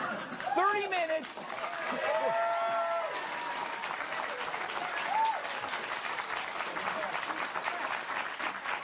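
A studio audience applauds at a late-night talk show, the clapping overlapping with scattered whoops and cheers early on, then settling into a steady round that runs to the end.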